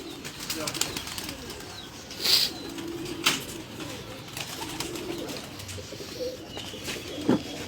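Pigeons coo softly now and then on a Lahore rooftop over a noisy outdoor background, with a few sharp chirps and rustles.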